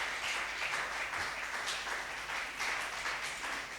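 A congregation at a morning church service claps, a steady wash of many hands at moderate distance that keeps going without pause.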